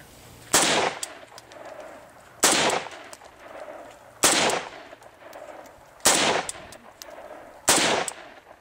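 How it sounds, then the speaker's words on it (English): .308 rifle shots crack at a shooting range, five sharp, loud reports spaced about two seconds apart, each followed by a brief echoing tail, with no talk. "You said someone was shooting 308."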